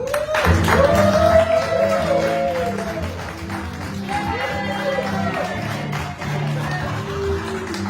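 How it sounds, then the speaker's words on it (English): Audience applause mixed with cheering voices greets a guest brought onstage at a live show, loud at first and then holding steady for about eight seconds. "please give a warm round of applause for Miss Betty Crocker"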